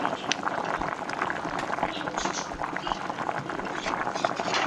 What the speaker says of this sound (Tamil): இந்த அளவுக்கு எண்ணெய் பிரிஞ்சு வர அளவுக்கு நல்லா கொதிக்கணுங்க